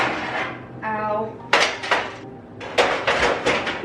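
Metal pans clatter in the drawer under a kitchen stove with loud, close bangs and scrapes in several uneven bursts, followed by a brief tonal ring.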